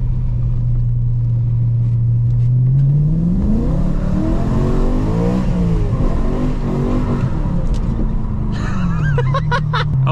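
A BMW E92 M3 pulls hard in second gear on a rain-soaked road with traction control switched off, its engine note climbing in a loud, close, rising drone as it accelerates, then settling at the end.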